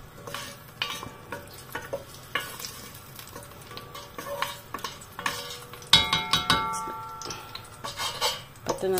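Sugar melts in a pan as it is stirred, with a soft sizzle under repeated scraping and tapping of a utensil against the pan, close and intermittent, growing busier toward the end.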